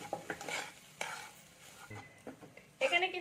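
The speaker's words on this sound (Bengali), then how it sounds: "এখানে আমি ভালো করে মিশিয়ে নেবো আর একটু নেড়ে নেবো" Potato filling with turmeric and chili being stirred and fried in a pan for a paratha, with soft scraping stirs and a light sizzle, a few louder utensil clinks near the end.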